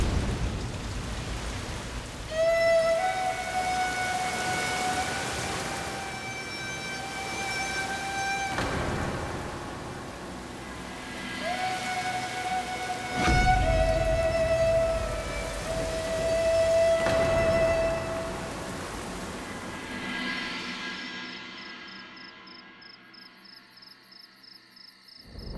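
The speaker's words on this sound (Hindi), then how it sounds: "बारिश रुक गई है" Steady rain falls at night with a few deep thunder rumbles. It runs beneath a sustained melodic music score that carries most of the way and fades out near the end.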